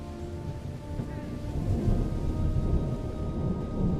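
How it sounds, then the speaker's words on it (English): Rain and rolling thunder in the Roblox-free city builder Anno 117, a continuous hiss of rainfall over deep rumbling that swells midway and stays heavy, with no voices. "It's raining all the time."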